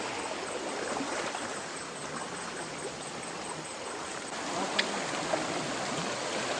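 Fast-flowing river water in flood rushes steadily as a dense, constant broadband wash, close and fairly loud, with a couple of brief splashes near the end and no voices.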